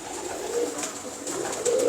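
Pigeons, an old breeding pair from mixed bloodlines, coo softly and repeatedly at close range, with low throaty calls layered over a steady background of other birds.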